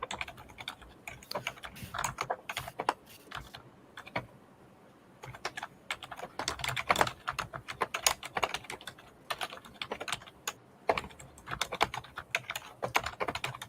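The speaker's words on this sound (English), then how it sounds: "all I hear is Kevin typing" Rapid clicking of fingers typing on a computer keyboard, steady bursts of keystrokes at close range with a brief pause midway, no talk over it.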